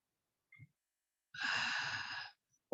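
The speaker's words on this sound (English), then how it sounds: "Breathe in." A person takes an audible breath in during a Pilates session, a brief soft intake followed by one steady, close, airy inhalation lasting about a second, in a quiet room.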